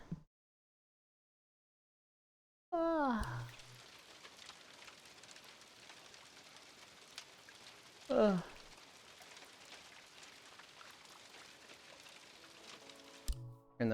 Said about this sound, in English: Turn the rain off.